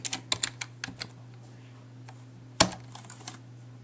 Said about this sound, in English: you're gonna want to type in TuneAid